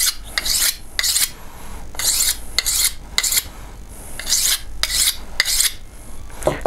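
A knife blade is drawn across a wetted whetstone in steady, rasping strokes, about nine close scraping passes with short pauses between them, heard alone.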